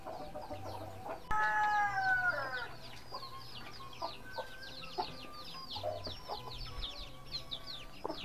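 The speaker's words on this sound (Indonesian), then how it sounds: "Ayam jago, ayam jago." A rooster crows loudly once, with hens clucking around it and bird chatter in the background, in a Sundanese countryside village in the late afternoon.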